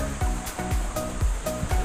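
Sea waves wash against the base of a high, steep rocky cliff, a steady rushing roar of surf with repeated surges and low thumps.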